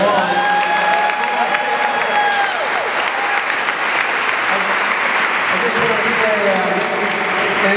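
A room crowd claps and cheers steadily throughout to encourage a man named Dan stepping up to take his plunge at a first-dip charity event in Quincy, with whistles rising over the constant dense applause.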